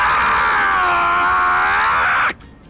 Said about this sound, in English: I'm ready for the shouting.